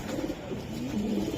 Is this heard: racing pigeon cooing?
yes